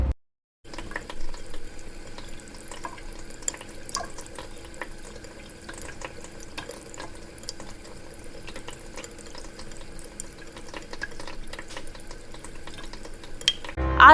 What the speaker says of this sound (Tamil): பாத்ரூம்ல யாரோ தண்ணி திருப்பி விடுற மாதிரி சத்தம் கேட்டிருக்கு